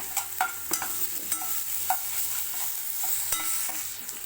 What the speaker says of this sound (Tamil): ஒரு நல்லா வதங்கிட்டுங்க இஞ்சி பூண்டு பேஸ்ட் கொஞ்சம் போட்டுக்கலாங்க